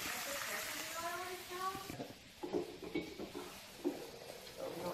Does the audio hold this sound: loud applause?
no